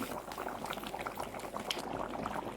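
A pot of sambar bubbles and simmers steadily, with dense popping and gurgling throughout at a moderate, close level.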